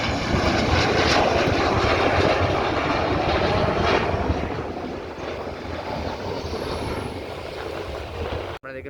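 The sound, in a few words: fighter jet touching down on airport runway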